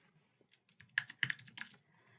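A computer keyboard clacks in a short burst of quick, close keystrokes that peak in the middle, with no voices.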